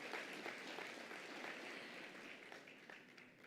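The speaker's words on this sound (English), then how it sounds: "Can we please give our distinguished leaders a big round of applause for their presence?" Audience applause at the Gauteng Investment Conference, a moderate, continuous patter of clapping from a seated crowd that gradually tapers off.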